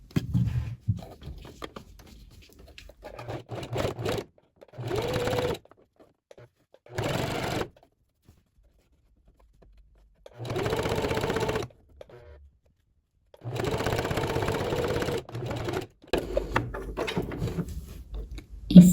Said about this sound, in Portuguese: eu vou fazer um pesponto aqui, bem próxima a essa bordinha ou margem do tecido.